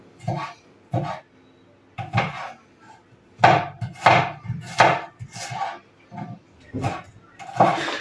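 Garlic cloves crushed with salt and olive oil, heard as a series of firm, close pounding knocks in uneven bursts with short pauses, and a voice speaking faintly in between.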